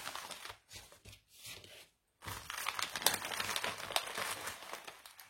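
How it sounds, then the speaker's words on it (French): Paper crinkles and tears as an envelope is opened close by, with a few sparse rustles, a brief silence, then a denser stretch of crackling handling. "Et nous allons découvrir ce que Mamicha m'a mis dans l'enveloppe"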